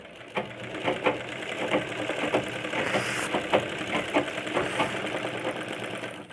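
Sewing machine stitching blouse fabric, a steady mechanical whirr with rhythmic clattering pulses repeating about every half second, close and continuous, no voices.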